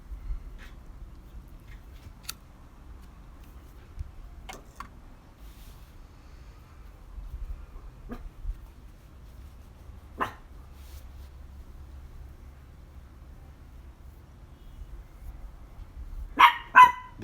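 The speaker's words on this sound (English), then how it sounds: "What are you barking at?" A few sharp dog barks ring out sporadically in a quiet space, with a louder cluster of barks near the end over a low background rumble.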